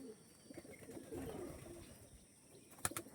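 An Andhra pigeon coos softly and faintly in low murmuring tones, followed near the end by a couple of sharp, brief clicks.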